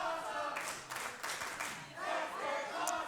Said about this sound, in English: Fans here at the Mecca showing their appreciation